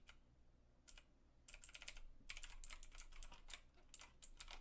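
Clicky mechanical computer keyboard keys are pressed in quick irregular bursts of typing, crisp and close, with short pauses between runs and no voices.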